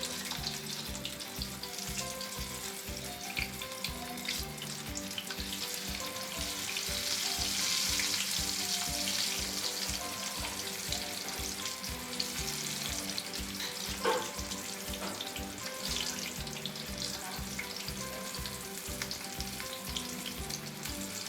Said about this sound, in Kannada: ಒಂದು ಸ್ಪೂನಲ್ಲಿ ಹಾಕ್ಕೊಳ್ಳಿ, ಎಣ್ಣೆ ಎಗರುತ್ತೆ.